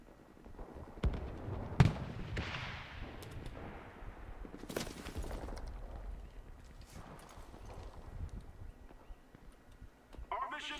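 Artillery fire in the World War II shooter Enlisted: several heavy blasts boom out among distant battlefield rumble and scattered gunfire, with soldiers shouting over the din.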